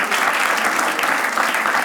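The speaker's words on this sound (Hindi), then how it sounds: "एक बार जोरदार ताली हो जाए सबके लिए." A studio audience bursts into dense, loud applause, a steady wash of many hands clapping close by for under two seconds, with no voices rising above it.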